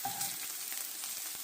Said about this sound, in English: I got 4 scrambled eggs in here. I'm just going to let that cook up.